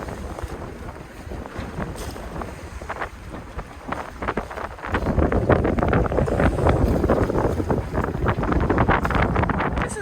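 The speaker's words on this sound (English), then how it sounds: "Got 20 knots of wind and snotty weather and a little bit of waves." Strong wind of about 20 knots buffets a catamaran on Puget Sound in choppy weather, a steady roaring rush and microphone gusting that grows louder in the second half, with no talking.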